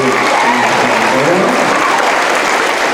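Steady, dense applause and cheering from a school band concert audience, loud and continuous throughout with no pauses.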